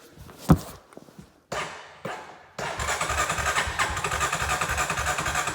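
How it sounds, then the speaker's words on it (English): A 1987 Honda TRX 250X ATV cold-starting after sitting a month or two: a few short cranking bursts, then the engine catches and runs at a steady, close, fairly loud idle. "It took a little bit to start it up because it's been a month or two, so this will be a cold start."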